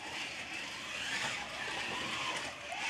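A Ninco Lotus Exige GTS slot car running on its track gives a steady, high electric-motor whine with a faint hiss of wheels on the track surface, held at an even level throughout.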